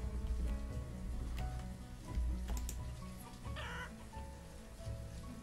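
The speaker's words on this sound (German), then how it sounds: "Das ist wahrscheinlich Hühner, hört sich jedenfalls an." Chickens cluck in the village-building game Banished, a few short soft clucks over quiet game ambience and light patter like rain.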